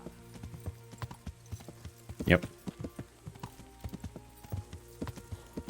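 Hooves clip-clop in a steady, rhythmic trot, close and clear, with a brief horse snort or whinny partway through and a short spoken word, from the video game Kingdom Come: Deliverance.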